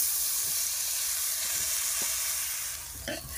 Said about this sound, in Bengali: এটাকে খুব সুন্দর করে ভাজা ভাজা করে নিতে হবে।